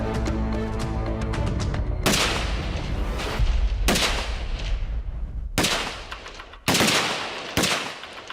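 Rifle fire at an outdoor shooting match, loud sharp reports recurring about every one to two seconds, each leaving a broad ringing tail, with no talk over them.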